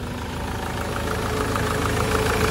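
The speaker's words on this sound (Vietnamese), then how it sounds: "Đây máy nổ rất là êm anh chị nhá," A 2008 Ford Transit van engine idles smoothly and steadily close by, a low even rumble with a soft regular pulse and no talking.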